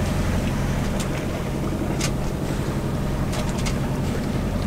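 A sailboat motoring along the coast under engine gives a steady low drone beneath constant wind and water rush, loud and unbroken throughout.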